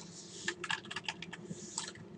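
Rapid clicking of keys on a computer keyboard while writing C# code in Visual Studio, a quick irregular burst of close, light taps with no talking.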